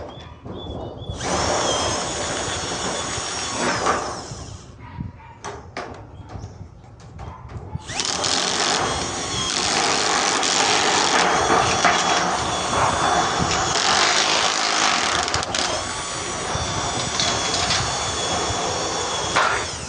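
A power cutter slices through galvanized iron roofing sheet in loud whining bursts: a short run, a pause with clattering metal, then a long continuous high-pitched cut lasting over ten seconds, close up.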